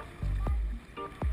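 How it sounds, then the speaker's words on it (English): Kayak paddle strokes while out fishing on water: two low swishing dips in quick succession, close and quiet, with faint water movement between them. "Just paddle forward and use your rudder."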